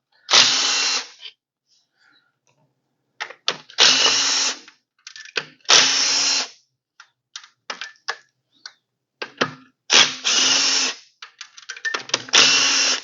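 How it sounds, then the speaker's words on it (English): A power tool whirs in short bursts, loosening bolts from a flathead engine, with clicks and small metallic knocks between runs, close and fairly loud. "Let's pull the rest of these bolts off."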